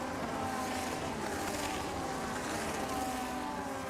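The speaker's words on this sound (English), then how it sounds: "The car sound sounds so much more legit." A race car engine drones steadily in a racing video game at Abu Dhabi, a continuous, moderately quiet roar with no breaks or other sounds.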